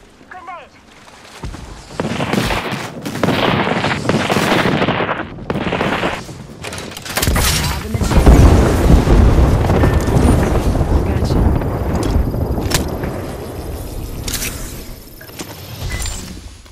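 Apex Legends combat with scattered gunfire and a heavy grenade blast about halfway through, followed by sustained rumbling noise, while a voice talks over the action.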